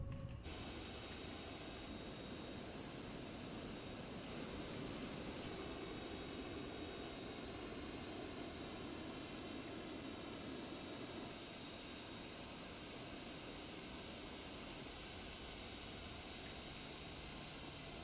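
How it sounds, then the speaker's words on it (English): Steady, faint jet engine whine and rumble from a Citation Sovereign taxiing in a flight simulator, continuous and unchanging throughout with no voices. "we're taxiing at 30 knots right now, and I've got no power."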